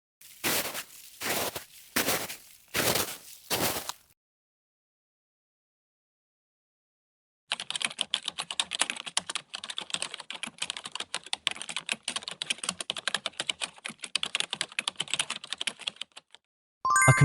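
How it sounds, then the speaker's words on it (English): Quick bursts of typing on a computer keyboard: a few short clusters of keystrokes, a pause of silence, then a long fast run of close, crisp key clicks. "A computer keyboard."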